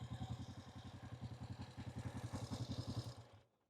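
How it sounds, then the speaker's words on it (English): A 1967 Honda CB450 Black Bomber motorcycle engine runs close by in a rapid, even, throbbing beat with a mechanical clatter on top, then cuts off abruptly at the end. "hear the sound, how it sounds. Really cool sound."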